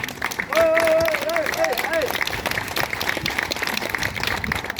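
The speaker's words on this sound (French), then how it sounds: "je crois que je peux vous applaudir" An audience applauds after a speech at an 1980s disco-themed afternoon event in Le Havre. The clapping is a dense, continuous wash throughout, with crowd noise and a brief tonal voice or whistle rising above it early on.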